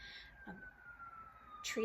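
An emergency siren passes outside, a faint steady wailing tone in the background while a person speaks briefly near the start and again at the end.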